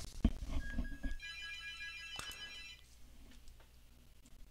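A telephone rings once in a classroom during a maths lesson, a bright, warbling electronic ring lasting over a second, preceded by some shuffling and clatter and followed by quiet room tone.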